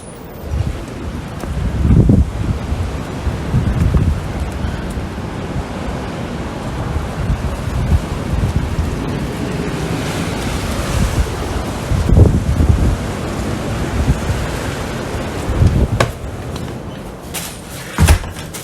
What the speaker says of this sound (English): We got a big tornado, big winds.